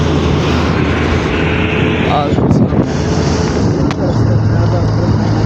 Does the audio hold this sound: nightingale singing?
no